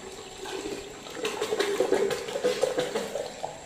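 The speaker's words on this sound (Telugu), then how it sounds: "మనము ఈ ఫ్రీ ఫిల్టర్ను మళ్ళీ వేరే నీరు తీసుకొని వేరే నీరు సహాయంతో మళ్ళీ ఒక రెండు మూడు సార్లు కడిగి వేయాలి" Water splashes and pours while a water filter is rinsed by hand, a moderate, close sloshing with irregular bursts lasting a few seconds, no talk.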